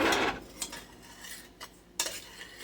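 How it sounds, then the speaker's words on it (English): A spoon stirs cocoa and water together in a saucepan to break up lumps for homemade chocolate syrup, giving a few distinct metal scrapes and clinks against the pan, one loud at the start and another near the end, with quiet gaps between. "I'm going to stir this around and break up any lumps that I might see to try to combine the two"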